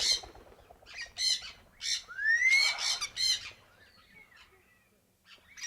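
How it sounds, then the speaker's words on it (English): An African grey parrot lets out a series of loud, harsh squawks and rising whistles close by, in bursts separated by short pauses, then goes quiet near the end. "This is called an African gray."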